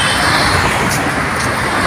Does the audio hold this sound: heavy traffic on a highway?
yes